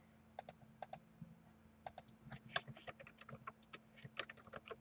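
Irregular clicks of typing on a computer keyboard, quiet and close, in short uneven bursts over a low steady hum.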